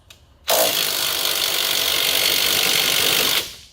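A wrench working a strut end link nut loose on a 2008-2011 Ford Focus gives a loud, steady whirring rasp lasting about three seconds, starting abruptly and cutting off sharply, with no talk.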